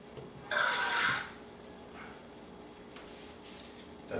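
Tap water splashes briefly into a 4-ounce can of diced green chilies as it is rinsed out in a home kitchen, one short gushing burst followed by quiet drips and faint movement.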